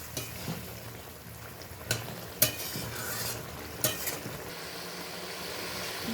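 Small river fish jhal chachchari cooking in a pan, a soft simmering sizzle broken by a few sharp scrapes and clinks of a spatula stirring, fairly quiet with no talking.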